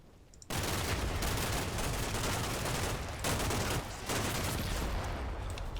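Sustained gunfire in the Combat Mission war game, dense loud rattling bursts of rifle and machine-gun fire that start abruptly, with a brief lull midway before resuming.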